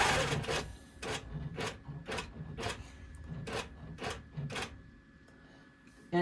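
An embroidery-style sewing machine lays down placement stitches on a notebook cover, a series of sharp rhythmic mechanical bursts about every half second, fairly close, with a soft background hum and a pause near the end.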